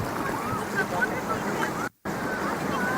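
Caspian Sea waves at Aktau roll in as a steady wash of surf mixed with gusty wind noise on the microphone, continuous throughout except for a brief dropout near the end.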